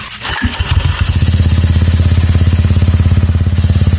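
A Honda Click/Vario 125 scooter engine with a direct dry clutch starts and settles into a steady, loud, rapid rattling idle close by, with a dry mechanical clatter throughout.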